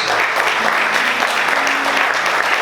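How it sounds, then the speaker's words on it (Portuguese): A church congregation applauds loudly, a thick, even wall of clapping that holds steady from start to finish without pause. "Você pode aplaudir Jesus bem forte?"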